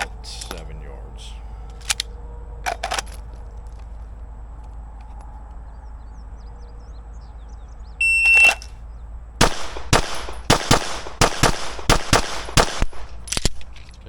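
A Staccato P pistol fires at a shooting range, a few sparse sharp shots first, then a quick string of loud close shots in steady succession, with an electronic beep from a shot timer before the string.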